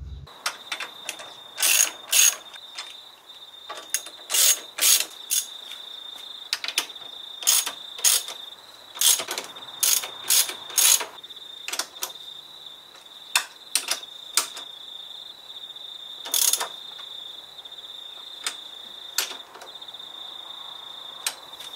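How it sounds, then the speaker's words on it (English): A ratchet tightening bolts on a front strut brace of an Alfa Romeo 147 GTA, giving quick clicking bursts of pawl ticks repeated over and over, close and fairly loud, with no talking. "So just tighten up all these bolts"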